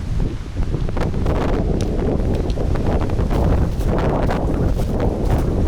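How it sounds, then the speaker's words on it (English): Strong wind roars steadily and loudly across the microphone in an abandoned ghost town in Central Asia, with constant buffeting gusts and rustling, and no voices. "it's going to be the worst of them all because of the freaking wind"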